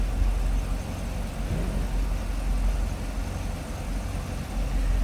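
A 2012 Chevrolet Corvette Grand Sport 3LT convertible with the LS3 6.2-liter V8 idles with the hood open, a steady, deep, low rumble heard up close with no talk.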